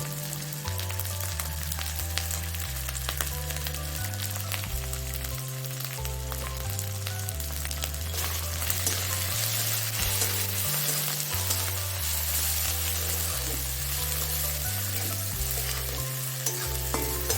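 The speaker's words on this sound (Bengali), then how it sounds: "অল্প জল দিয়ে ভালো করে মশলাটা কষিয়ে নিতে" Ground spices with turmeric, salt and chilli powder fry in a pan for a loitta fish kosha, a steady close crackling sizzle with occasional stirring scrapes, no talk.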